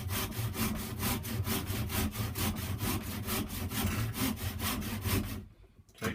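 A hand saw cuts through a wooden walking stick held in a vise, with steady rhythmic back-and-forth strokes close up and loud, stopping abruptly near the end.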